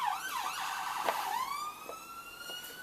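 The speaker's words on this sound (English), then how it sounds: "and I apologise for the siren." An emergency siren wails outside, rising and falling before settling into a long steady tone, fairly faint and distant behind the room.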